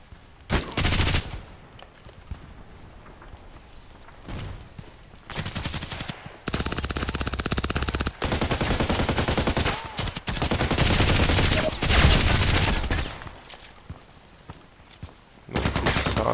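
Sustained bursts of RPKT tactical machine gun fire in the video game Contract Wars, loud and close, with several long automatic strings separated by short pauses.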